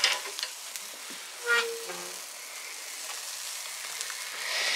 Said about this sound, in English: That coffee sounds like it's already starting, the water's starting to sound anyway. Start sizzling.